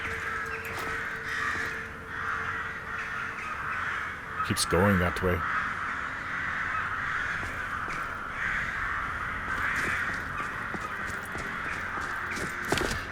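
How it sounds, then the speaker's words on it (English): Crows cawing in a video game, a flock heard steadily in the background while someone talks over them, with a brief louder burst partway through. "The crows make me think that there's something here."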